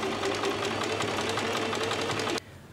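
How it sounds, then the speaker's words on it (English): A sewing machine runs steadily, stitching a decorative stitch along the front of a summer dress, with a fast even mechanical whir and rapid needle pulses close by for over two seconds before stopping abruptly. "now I've finished the decorative stitch on the front"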